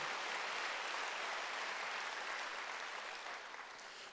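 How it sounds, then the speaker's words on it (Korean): Congregation applause in a church during a Wednesday worship service, a dense sustained clapping that stays steady and fairly loud for several seconds before easing slightly at the end, with no voice over it. "박수 하세요"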